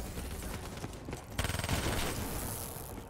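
Rapid gunfire bursts in Call of Duty Black Ops 3, a sharp cluster of repeated shots erupting midway through a faint, busy background of combat noise.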